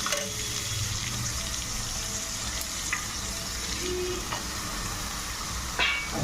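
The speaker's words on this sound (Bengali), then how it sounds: "আলুটা ভেজে দেবো।" Potatoes fry in a pan with onion and turmeric, a steady broad sizzle with faint hiss and a few light clinks and stirs, the last one louder.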